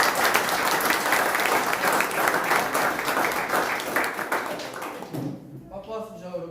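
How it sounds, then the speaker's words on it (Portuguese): Congregation at a church service claps loudly and steadily in a dense, sustained burst of applause that fades out near the end as a voice begins speaking. "Dê um aplauso bem forte à palavra do Senhor"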